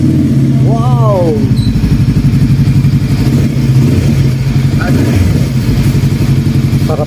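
A motorcycle fitted with an Akrapovic M1 exhaust idles and revs up close, giving a loud, steady, throbbing engine note, while a voice rises briefly over it.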